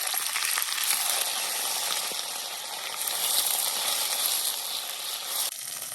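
Spinach fries in bacon grease on a small vanlife stove, giving a bright, continuous hiss and crackle close by. A few faint clinks sound over it, and the sizzle dips briefly near the end.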